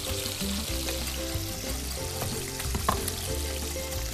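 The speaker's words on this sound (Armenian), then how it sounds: "Տապակվում է ձեթի մեջ" Fish sizzles as it fries in oil, a constant crackling hiss running beneath background music, with a few small clinks.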